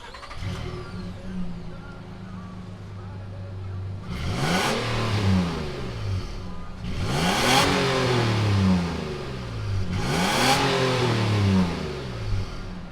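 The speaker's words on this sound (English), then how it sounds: "fire it up, and see what this V6 sounds like" A 2019 Nissan Frontier V6 engine idles, then revs three times in rising and falling bursts, loud and close with no talking.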